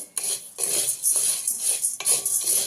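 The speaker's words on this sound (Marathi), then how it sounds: "अशा प्रकारे शाबू मी मंदाशीवर चांगला भाजून घेते" Sago pearls are dry-roasted over low heat in a pan and stirred, producing repeated close scraping strokes and light rattling of the pearls against the metal.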